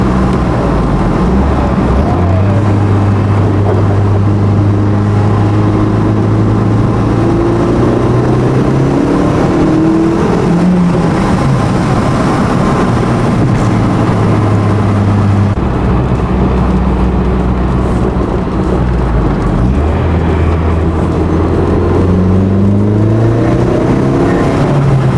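An Audi S3 with a 1.8T turbo engine pulls loudly on the road, its drone rising and falling through repeated acceleration and gear changes, with turbo boost noises under the constant in-cabin engine roar.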